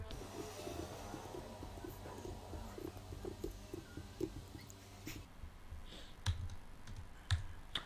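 Faint, sparse clicks from a computer keyboard being typed on while writing Python code, a few isolated keystrokes spread over several seconds against a low background rumble, quiet overall.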